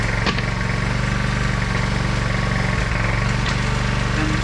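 A DeWalt planer flipped upside down to work as a jointer runs with a loud, constant motor drone and a buzzing vibration, heard close and alone.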